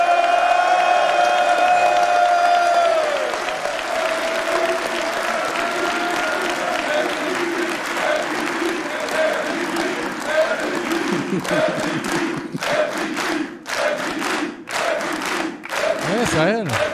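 A live audience at an NBA-themed public show in Paris applauds and cheers, steady clapping with whoops and shouts, while a voice rings out over it near the start.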